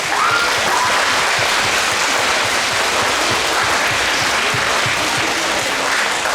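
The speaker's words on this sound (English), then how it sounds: "Students, let's give your parents a huge round of applause" Sustained, dense applause from a concert audience at a middle school band winter concert, a steady loud wash of many hands clapping together throughout with no talking.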